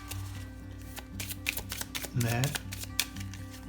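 Gypsy fortune-telling cards being shuffled by hand, a quick run of crisp papery riffles and clicks up close, with a brief spoken word partway through.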